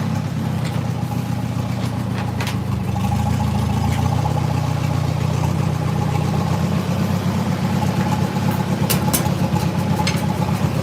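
Two Farmall tractors, a Super M and an M Diesel, running side by side, a steady loud low idling rumble that holds constant throughout with no talk.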